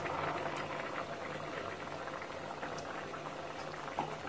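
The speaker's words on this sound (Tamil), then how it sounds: "இப்போ பாருங்க நம்மளுக்கு நல்லா கொதிச்சிருச்சு" A potato and coconut kurma with ground coconut and fennel boils in a pot, a steady, fairly quiet bubbling and simmering that runs continuously with no talk.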